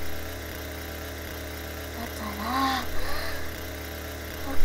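A chainsaw engine idles in a steady low rumble throughout a binaural role-play recording, with a voice briefly speaking over it midway and a slight rev near the end.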